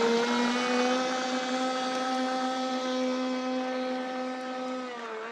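A boat engine drones steadily as the boat drives up onto a river bank, a loud, close, even hum whose pitch dips slightly at the very end.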